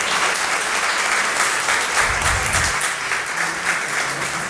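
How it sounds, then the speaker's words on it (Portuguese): Crowd at a public hearing applauding city councillors, a full, steady wash of many hands clapping throughout, with a low murmur of voices underneath. "Vou até pedir uma salva de palmas para todos os vereadores aqui presentes."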